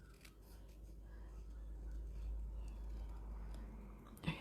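Scissors snip through designer series paper card in a crafting class, a soft, quiet crisp cutting and rustling that runs steadily over a low hum, ending with a small tap.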